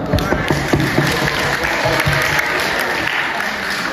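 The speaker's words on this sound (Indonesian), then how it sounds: "Tepuk tangan dulu dong." A class of seventh-grade students at a school product exhibition applauds loudly and continuously, with crowd murmur and voices mixed into the clapping.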